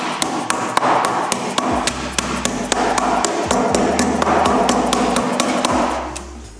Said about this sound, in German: Jetzt habe ich hier so einen rückschlagfreien Hammer,